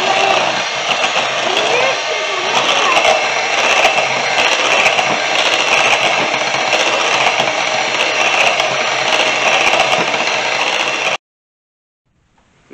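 Electric hand mixer beating cream with sugar, a loud steady motor whir with rattling that runs for about eleven seconds and then cuts off abruptly into silence.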